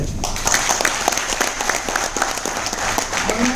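A crowd applauds steadily, a dense patter of many hands clapping at close range for a few seconds.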